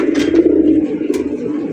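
Domestic pigeons coo close by, a loud, low, throaty warble with soft chirps mixed in, continuous and without voices.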